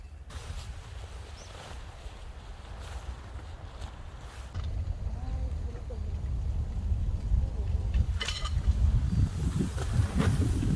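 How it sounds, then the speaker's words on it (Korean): Steady wind blowing across an open winter campsite in sub-zero cold, a constant low rumble buffeting the microphone that swells louder in the second half, with occasional rustling and a voice speaking. "오늘은 바람이 너무 부는데"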